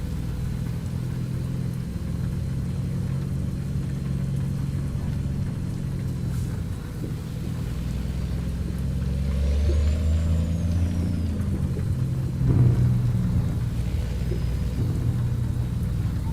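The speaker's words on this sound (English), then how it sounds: "it's the exhaust sound that I'm hearing that sounds great" A Peterbilt 388 wrecker truck in a trucking game rumbles with a deep, steady exhaust drone that swells mid-way, with a short sharp hiss or brake release near the end and no speech.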